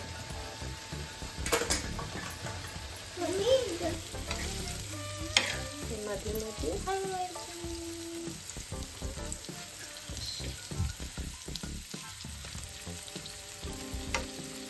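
Masala for matar paneer roasts in a pan, with steady sizzling and frying, repeated stirring scrapes and occasional clinks of a utensil against the pan, close and fairly quiet.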